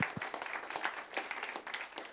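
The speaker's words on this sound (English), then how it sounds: "we'll give you a little applause first" Audience applause after a talk on climate measures, a soft, fairly distant patter of many hands clapping steadily for a couple of seconds.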